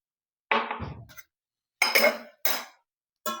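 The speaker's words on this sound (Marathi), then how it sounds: "झाकण ठेवून द्यायचं." A metal lid is set onto a small cooking pot sitting inside a larger pot of water, making a few separate clanks and clinks spaced over a few seconds.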